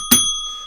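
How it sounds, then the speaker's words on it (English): A bell rings once with a sharp, loud strike and a bright, sustained ringing tone that slowly fades, heard alone, close by and indoors on a cold day. "I pressed the bell."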